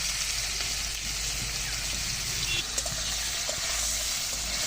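Prawns frying in a pan for a bottle gourd and prawn curry, giving a dense, steady sizzle and crackle close by, unbroken for the whole stretch with no voices.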